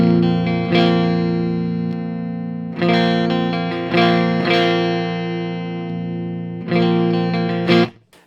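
Electric guitar through a Marshall Valvestate amp with the tone shift engaged, playing distorted, chugging chords in several loud bursts, each ringing out before the next, with no talking.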